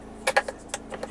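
Glove box latch on a 2011 Honda CR-V 2.2 i-DTEC EX being released, a quick series of faint plastic clicks and knocks over about a second inside a quiet cabin.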